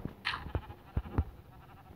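A goat in the Minecraft video game bleats in short, faint repeated bursts spaced over a couple of seconds, with light game noises between.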